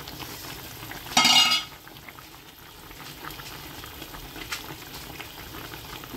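Lamb chops curry with capsicum and potato simmering in water in a pot, a steady faint bubbling with one brief louder clatter or splash near the start, no voices.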